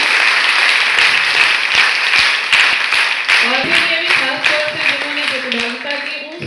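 Loud, sustained applause from a college audience at an NCC wing programme, thick clapping throughout with a voice talking over it in the second half.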